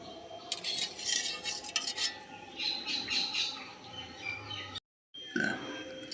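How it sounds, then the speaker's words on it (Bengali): Metal strainer clinking and scraping against a pot as boiled lemon peels are drained, with close rattling taps, a brief silence, then more clatter. "ছাঁচার সাহায্যে আমি জলগুলো ছেঁকে এগুলো তুলে নেব"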